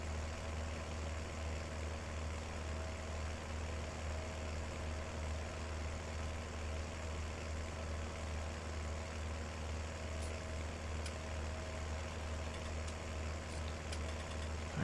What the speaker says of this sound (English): I got my fast tractor.